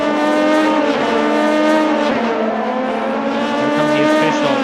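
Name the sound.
race cars on the Mulsanne Straight at Le Mans, sim racing video game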